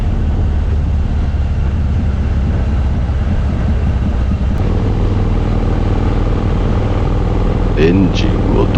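A custom Harley-Davidson FXD-R motorcycle engine runs close and loud on an expressway outing, a steady deep rumble that shifts tone midway, with a few brief higher chirps near the end.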